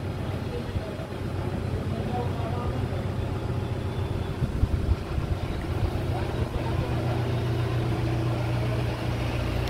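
A tractor engine runs steadily with a continuous low, throbbing drone and no pauses, loud and close, while someone talks over it.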